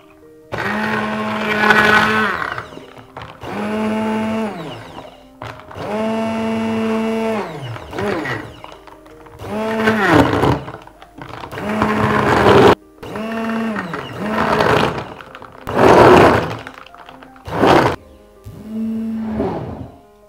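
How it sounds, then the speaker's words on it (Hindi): A kitchen blender whirs through cold coffee with powdered sugar and ice cream in about nine short bursts, each pulse loud and close, separated by brief pauses. "आइए अब हम इसे ब्लेंड कर लेते हैं।"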